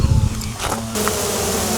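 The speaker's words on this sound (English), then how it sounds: "Just a simple load of bees right there" A swarm of honey bees gathers at a newly started hive, giving off a dense, steady buzzing hum at close range.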